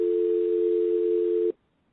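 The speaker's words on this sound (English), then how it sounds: "So now when you hear this dial tone" A steady, continuous telephone dial tone hums alone for about a second and a half, then cuts off abruptly into silence.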